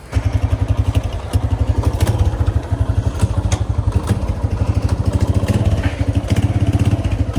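A new motorcycle on its first trial ride, engine running close by with a steady fast low thumping beat that holds loud throughout, with slight clatter on top.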